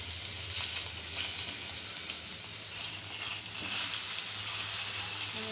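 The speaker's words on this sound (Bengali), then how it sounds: "এখন ফুলকপিটা ভেজে নেব।" Large cauliflower pieces fry in hot oil for a Bengali cauliflower curry, giving a steady, close, even sizzle that holds at one level throughout with no voices.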